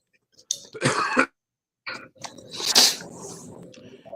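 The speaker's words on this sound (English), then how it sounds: "You're coughing." Coughing and throat clearing from a man on a morning talk show, two harsh bursts separated by a short silence, close and loud with no speech.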